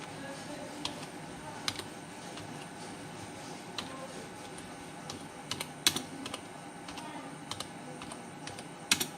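Soft, irregular keystrokes on a computer keyboard while HTML code is typed, with a few sharper clacks standing out over a quiet background hum.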